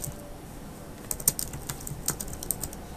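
Rapid clicking of keys on a computer keyboard, irregular taps clustered together, fairly close, with a soft steady hum underneath.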